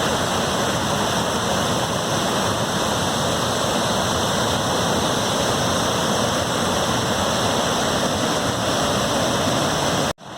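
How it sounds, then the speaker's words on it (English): Waterfall at Ewbank Scar near Kirkby Stephen, water cascading steeply down a slope in front of a big limestone slab: a loud, steady, broadband roar that runs unbroken for about ten seconds, close by and with no voices, then cuts off abruptly. "Water cascading precipitously down a slope with a great big slab of limestone behind it."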